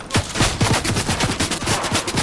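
Fortnite gunfire rattles off as a rapid, dense stream of loud repeated shots with a steady rhythm, no voices heard over the shooting.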